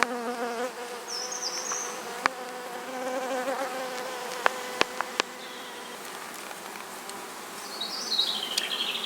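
A dense, steady hum of honeybees buzzing around an open hive during a beekeeping inspection, with a few sharp clicks and taps standing out as the frames are handled.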